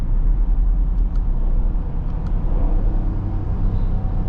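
A 2026 Dodge Durango GT Plus engine pulls hard under acceleration with paddle-shifted gear changes, a loud, steady low rumble filling the cabin throughout.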